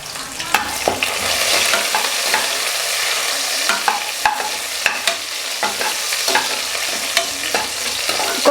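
Dried red chillies and small shallots fry in oil in a pan for mutton curry, giving a loud, continuous sizzle broken by scraping stirs and a few sharp clinks of a spoon.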